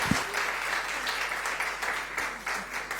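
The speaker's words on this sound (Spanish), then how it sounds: "Un fuerte aplauso para la pastora." A church congregation claps for the pastor, lively close applause with a brisk rhythmic patter that stays strong and steady for a few seconds.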